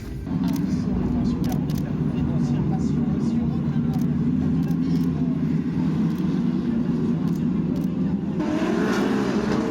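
GT3 race cars roar off the start at Circuit Paul Ricard during the GT World Challenge, a loud, continuous wall of engine noise that swells slightly near the end, heard from trackside.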